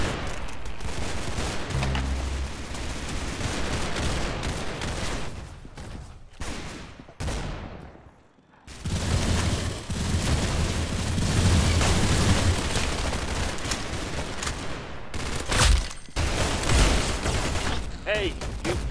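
Roblox Arsenal gunfire crackles in dense bursts and rapid volleys through most of the stretch, with a short lull near the middle before the shooting resumes, while a player's voice talks over the action.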